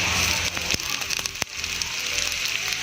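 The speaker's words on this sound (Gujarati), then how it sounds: "ત્યારબાદ હવે આપણે આમાં ડુંગળી એડ કરી દઈશું। ડુંગળી સમારેલી" Chopped onions added to hot oil in a pan for masala spaghetti pasta, giving a steady dense sizzle and crackle with a few sharp clatters of the pan early on.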